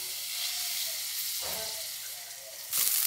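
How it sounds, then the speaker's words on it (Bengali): Chopped onions sizzle and fry in soybean oil in a wok for a potato curry, a steady close hiss that swells briefly with stirring and flares louder near the end. "পেঁয়াজগুলো আমি একটু বাদামি কালার করে ভেজে নিতেছি"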